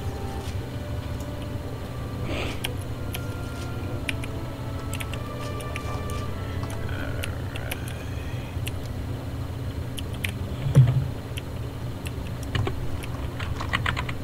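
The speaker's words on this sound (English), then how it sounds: "I'm typing." Steady typing on a computer keyboard, with rapid close clicks running throughout over a low background hum and a soft thump near the end.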